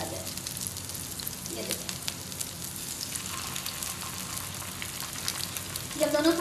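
Shami kebabs made without lentils fry in a pan with a steady close sizzle throughout, someone speaking briefly over it near the end.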